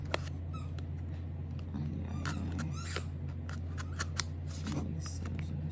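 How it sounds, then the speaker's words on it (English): Scissors are handled while a nail art kit is unboxed, giving a scatter of short sharp snips and clicks close to the microphone over a steady low hum. "And the next one we have these scissors."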